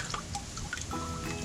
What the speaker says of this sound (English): Tip it over. Maybe the water will fall out.